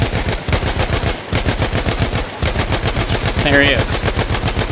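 Perino Model 1908 light machine gun firing in the video game Battlefield 1, loud rapid bursts of evenly spaced shots with only brief pauses, someone speaking briefly over the gunfire.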